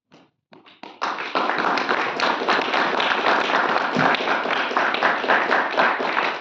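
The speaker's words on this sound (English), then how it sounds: "Big applause to Mr. Stanley." An audience at a Q&A with filmmaker Richard Stanley in Tampere, Finland breaks into applause, opening with a few scattered claps and then swelling into a full, sustained crowd ovation of dense, steady clapping that stays loud throughout.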